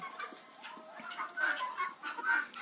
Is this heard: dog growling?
no